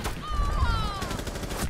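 Rapid automatic gunfire in a video game, a dense run of shots under excited talk from a player.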